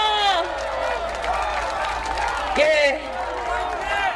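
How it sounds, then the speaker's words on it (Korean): A crowd at an outdoor political election rally claps and cheers, with whoops and shouted voices rising over a continuous roar of applause and an amplified voice carrying through. "박수로 보내드립시다."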